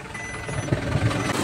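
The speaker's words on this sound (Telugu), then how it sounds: "ఆహా ట్రాక్టర్ వచ్చేసింది గైస్ మధ్యలో" A tractor arrives in a village with its engine rumbling nearby and faint reversing beeps mixed into the steady mechanical drone.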